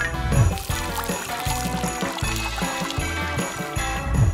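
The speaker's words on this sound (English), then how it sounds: "First, we'll add enough glue into this bowl, and then we'll add water!" Water poured into a bowl of glue for a craft mixture, a steady trickling pour heard close up over a repeating background music track.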